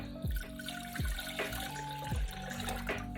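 Water being poured into a pot to bring it to a boil, a fairly quiet splashing trickle with a few gurgling pulses, indoors with no talking.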